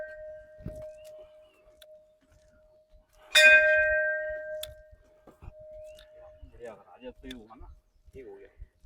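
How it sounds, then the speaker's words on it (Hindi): A temple bell at a hidden Mother Goddess shrine in the forest near Haridwar rings once with a sharp metallic strike and a long shimmering decay. Softer hums and ringing come before it, and quiet voices speak in the background. "ये हम फिर इस तरफ से घंटी बजाते हैं।"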